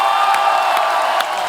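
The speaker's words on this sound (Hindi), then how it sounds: "आप सबकी जोरदार तालियों से स्वागत करना चाहूंगा" A live TV comedy show's studio audience claps and cheers as the guest, a singer, walks on. A dense, steady wash of applause and crowd noise fills the clip, with a few brief whoops standing out.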